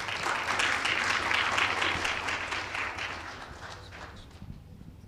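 An audience at a business forum applauds after a speech, dense clapping fairly loud at first and gradually thinning out toward the end.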